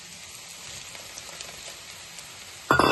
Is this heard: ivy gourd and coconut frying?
yes